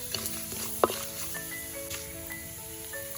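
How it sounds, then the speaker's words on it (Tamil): Fenugreek and mustard seeds sizzle in hot oil, a steady close crackle with occasional pops, including one sharp pop near the start, for a Kerala water apple pickle. "எண்ணெய் சூடாயிட்டு வெந்தயம் போட்டுக்கலாம், கடுகு போட்டுக்கலாம்"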